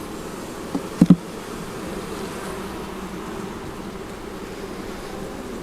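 Honey bees buzz in a steady low drone during a full beehive inspection, close and continuous, with a few brief knocks near the start and no talk.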